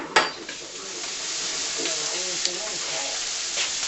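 Lean ground beef sizzles in a pan with a steady close hiss and occasional clinks of stirring, while faint voices are heard beneath.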